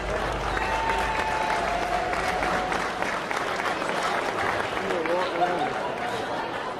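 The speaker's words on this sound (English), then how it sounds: "You deserve a round of applause." Sustained applause from a crowd at an Honor Flight event at Columbus airport, mixed with cheering and murmured voices in a large echoing space.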